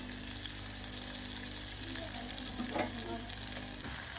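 Onion, garlic and chili fry in hot oil as the base of a prawn masala, giving a steady, close sizzle throughout with a brief stir or clatter near the end.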